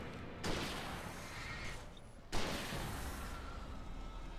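Rifle fire from the video game Alan Wake Remastered at Anderson Farm: two sharp, loud shots, each followed by a long sustained burst of noisy rumble and echo that fills the clip.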